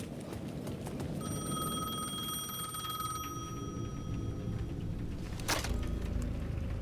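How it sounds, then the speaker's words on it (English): A payphone in the video game Alan Wake 2 ringing at the edge of a plaza: a thin, steady electronic ring held for several seconds over a low ambient rumble, quiet, with a sharp burst near the end. "The payphone at the edge of the plaza was ringing again."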